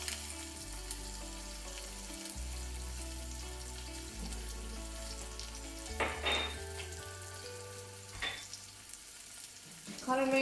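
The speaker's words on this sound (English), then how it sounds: "When it starts sputtering, I'm going to add the rest of the onion." Chopped onion frying and sputtering in hot oil for a Sri Lankan dhal curry, a faint steady sizzle with occasional stirring clatter beneath soft background music.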